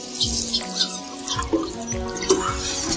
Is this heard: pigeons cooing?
no